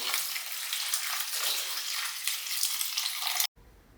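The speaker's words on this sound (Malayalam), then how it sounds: "വെള്ളം ഊറ്റിപ്പോയിക്കോളൂ" Steady splashing, rushing water drains from washed, chopped vegetables for about three and a half seconds, then cuts off abruptly, leaving a faint low background.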